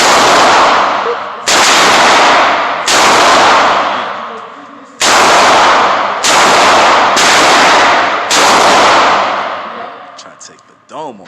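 Gunshots at an outdoor gun range: six loud, sharp blasts at uneven intervals, each followed by a long decaying echo, with a brief faint rattle near the end.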